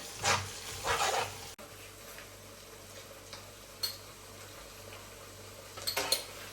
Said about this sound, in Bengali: এটা নাড়াচাড়া করতে হবে যতক্ষণ না পর্যন্ত এটা একটা সুন্দর কালার না হয়